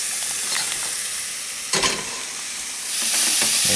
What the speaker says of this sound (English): So as you're slowly getting your chicken cooked